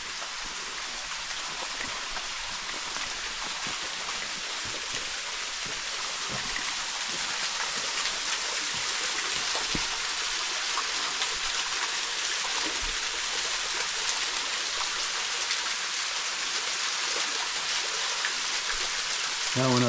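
Small waterfall splashing down into a rock canyon, a steady broadband hiss of falling water that stays close and constant throughout with no pauses.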